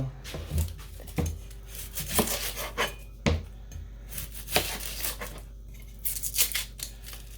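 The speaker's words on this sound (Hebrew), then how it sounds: "שני בצלים נקלף." Two onions are peeled by hand for falafel, with a run of close, dry, crackling rustles and small scrapes coming in irregular bursts.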